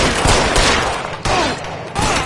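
Rapid gunfire in L.A. Noire, a loud burst of overlapping shots filling the whole moment with a couple of short gaps between volleys.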